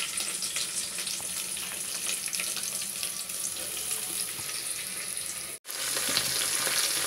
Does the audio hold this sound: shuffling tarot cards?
no